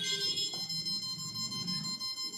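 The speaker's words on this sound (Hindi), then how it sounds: "अब जब बीप आएंगी, 3 बीप आएंगी, तो उसके बाद ये वर्क करना स्टार्ट कर देंगे।" Electronics on an amphibious robot give tonal startup beeps right after battery power is connected, clear pitched tones that pulse in a steady pattern, close and fairly quiet.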